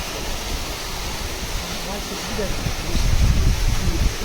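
Steady rushing of water pouring from a borewell pipe, growing louder and heavier toward the end, with a broad continuous roar.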